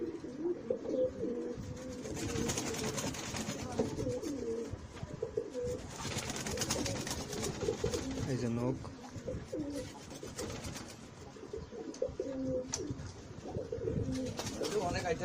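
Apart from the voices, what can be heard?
silver Pankhi pigeon chicks cooing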